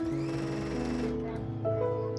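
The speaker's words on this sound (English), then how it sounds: "I'm sewing on an half-inch seam allowance" A sewing machine stitching a half-inch seam on a satin scrunchie, a brief run of mechanical whirring that slows and stops partway through, close by.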